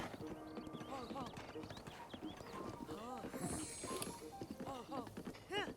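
A horse in a video game clip-clops along with brisk hoofbeats and neighs in short whinnying bursts, with someone talking over it throughout.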